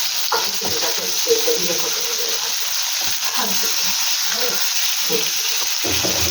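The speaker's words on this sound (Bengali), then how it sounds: "এবারে উঠে দেবো মাছটা, হালকা ভাজবো, জাস্ট হালকা" Hilsa fish pieces frying lightly in a small amount of oil, a loud, close, continuous sizzle with stirring scrapes, and a voice briefly heard underneath.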